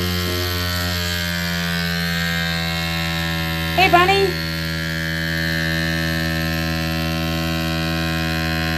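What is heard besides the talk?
FoodSaver handheld vacuum sealer pulling air from a container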